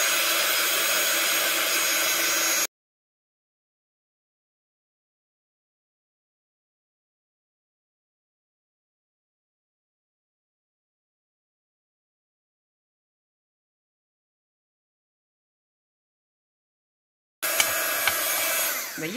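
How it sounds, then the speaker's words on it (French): A heat gun blows hot air to dry craft paint, giving a loud, steady roar that cuts off after a few seconds. A long silence follows before the blowing starts again near the end. "je vais utiliser le heat gun"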